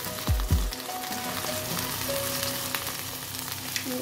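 Food sizzles steadily in a pan with garlic paste, a close, continuous frying hiss opening with two quick low knocks of utensil handling.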